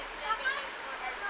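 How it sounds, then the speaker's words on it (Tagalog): A river flowing close by along a hiking route, heard as a steady, even wash of rushing water with no breaks, fairly loud and continuous throughout. "parang naririnig ko na ang ilog malapit dito"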